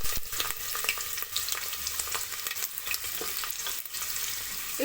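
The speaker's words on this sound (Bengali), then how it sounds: "এই যে রসুনের কোয়াগুলো রেখেছিলাম সেগুলো তেলে দিয়ে" Whole garlic cloves dropped into hot oil for a Bengali chicken curry crackle and sizzle steadily, with a few spatula scrapes, close and fairly loud, with no speech.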